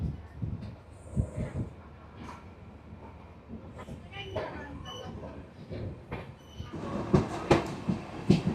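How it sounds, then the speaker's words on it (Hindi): The Silchar–Agartala Express pulling out of Karimganj Junction rumbles and clatters at close range, with scattered metallic clicks and squeaks that grow louder toward the end, while a voice speaks over it early on. "तो हम करीमगंज जंक्शन से डिपार्चर लेते हुए"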